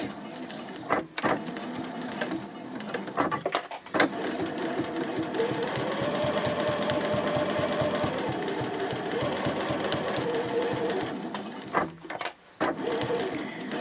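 A sewing machine stitches a lining to the outside of a fabric basket, running in a fast, even mechanical rattle for several seconds and stopping briefly at the start and near the end.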